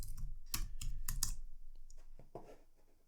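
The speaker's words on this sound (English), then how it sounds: "so we type in Thunderbird" Fingers tap out a short burst on a computer keyboard, crisp close key clicks in quick runs for about a second and a half, then a few sparser keystrokes trailing off.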